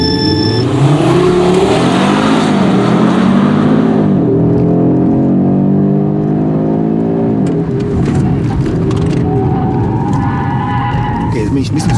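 An Audi RS3 8Y engine revs and accelerates hard on a race track, its loud sweeping harmonics rising and falling through gear changes, with someone talking over the drive.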